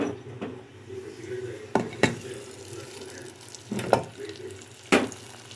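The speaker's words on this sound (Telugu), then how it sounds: "తాలింపు దీంట్లో వేసేస్తా ఫ్రెండ్స్." A hot tempering hitting bottle gourd and tomato dal in a pot, with a soft sizzle under sharp metal clanks of a spoon against the pan, close and intermittent.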